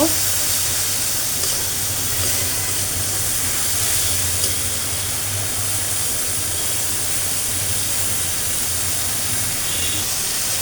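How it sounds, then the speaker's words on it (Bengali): Spice paste with chili and coriander powder frying in a pan for a Bengali tengra fish bhuna, a steady close sizzling hiss that stays even throughout. "এখন আমি অল্প একটু ধনের গুঁড়া দিয়ে দিব মশলাটাকে ভালো করে কষাই নিব"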